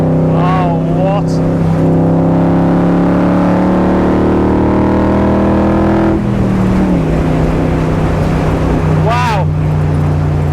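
A Superformance MKIII Shelby Cobra's V8 rumbles with a deep, steady low drone from inside the car while driving, its pitch shifting as the engine revs change, with people talking over it.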